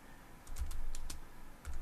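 Typing on a computer keyboard: a few quick, light key clicks in short bursts, close and fairly quiet over a low background hum.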